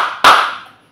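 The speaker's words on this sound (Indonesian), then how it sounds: "Tepuk semangat." A group of students claps once in unison as a rhythmic spirit clap in a classroom, a single sharp close burst that quickly decays.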